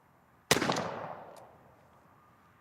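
A Winchester SX4 12 gauge shotgun with a Jebs 650 choke fires one Migra Hybrid load in a single sharp, loud blast that rings and fades over about a second outdoors.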